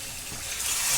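Mutton for biryani sautéing in its marinade in a pan, giving a brief, close, steady sizzle with stirring noise that swells slightly toward the end.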